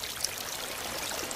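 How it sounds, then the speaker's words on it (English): Water running steadily from a tap, a faint continuous hiss and trickle, with no talking. "How long has this water been running?"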